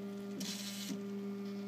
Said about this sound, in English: my printer seems to be printing again